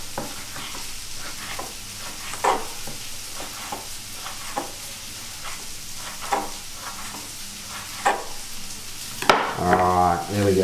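Chopped onions sizzle and crackle steadily in a frying pan while being stirred, with sharper scrapes and pops recurring every second or so, cooking as part of a double deluxe cheeseburger.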